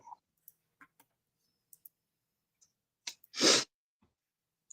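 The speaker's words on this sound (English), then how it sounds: "You keep sneezing and talking." A single close, sharp sneeze bursts out after a few faint clicks and near silence.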